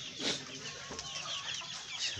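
Hybrid chickens clucking close by on a rainy day, a busy run of short irregular clucks repeating throughout.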